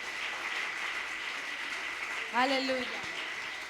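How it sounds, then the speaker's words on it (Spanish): Congregation clapping steadily through a church service, a broad wash of applause that carries on alone before a voice breaks in near the end. "Bríndale fuertes palmas al Señor."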